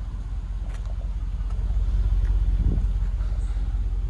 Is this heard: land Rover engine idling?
yes